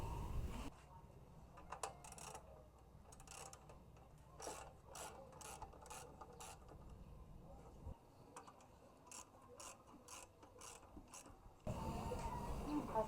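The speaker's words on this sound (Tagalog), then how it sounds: "babakasin natin itong apat na tornilyo. Ito gamit ang 10mm." Ratcheting clicks from a 10mm socket wrench loosening screws on a 9-liter motorcycle gas tank, bursts of quick close clicks separated by pauses, fairly faint, with someone talking briefly at the start and end.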